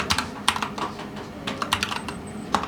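Keys clatter on a computer keyboard as code is typed, with quick close bursts of clicks and short pauses between them.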